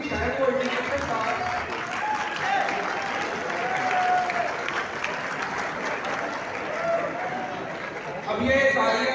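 Applause from a university audience at a Teachers' Day address in Jind, heard as a steady wash of many hands clapping close by that carries on throughout, with voices mixed in underneath.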